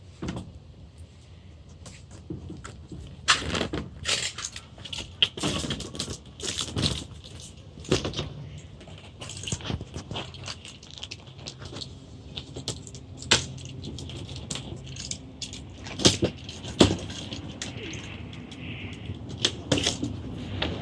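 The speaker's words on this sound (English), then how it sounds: "All I got to do is take a razor and cut it right down, which I'm going to do right now" A razor blade slicing down through Sukkah panel material, a series of close, irregular scraping and snapping cuts with clicks and rustles, moderately loud and without talk.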